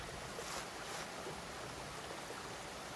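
Hemlock waterfall in the Sipsey Wilderness of Alabama, a long cascade flowing well, gives a steady, soft broadband rush of falling water heard from a distance, unchanging throughout.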